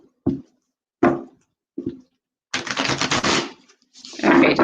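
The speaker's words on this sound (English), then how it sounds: "just a couple more shuffles here" Tarot cards are shuffled by hand: three short separate riffles, then a longer rustling burst and another brief flurry, close and crisp with no talk.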